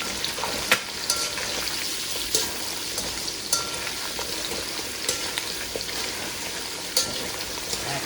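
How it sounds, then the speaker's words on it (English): Meat fries in a pan with a steady crackling sizzle, punctuated every second or so by louder pops and the occasional stir, close by and continuous. "So I just want to fry it all up."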